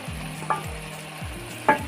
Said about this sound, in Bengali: মশলার সাথে সবজিটাকে একবারে মিক্সড করে নেব।